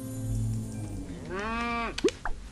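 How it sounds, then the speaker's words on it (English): A cow in the farming video game Big Farm Story gives one long, drawn-out moo with a rising then falling pitch, followed by a couple of short game sound effects, clear and close with no talking. "It has grown into a cow."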